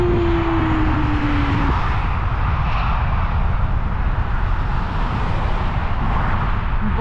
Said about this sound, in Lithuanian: Va, lėktuvas nusileidžia.